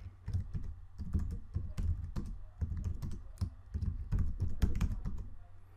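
Rapid, uneven keystrokes on a computer keyboard as tasks are entered into Microsoft Project, clicking close and clear for about six seconds with short pauses between bursts.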